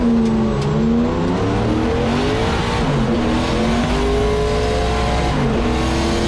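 A red Subaru and a white Toyota drift race cars at an event, engines loud and continuous with rising and falling revs that overlap, tyres squealing beneath the roar.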